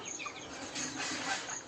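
Chickens in a small 6-by-10 room coop cluck and murmur continuously at close range, with brief scuffles and a slightly busier stretch in the middle.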